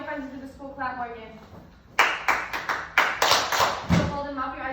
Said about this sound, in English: I need all my friends to do the school clap